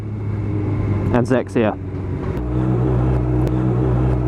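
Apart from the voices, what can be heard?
car engine revving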